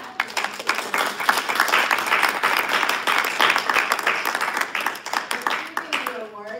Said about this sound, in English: give a big applause to our formidable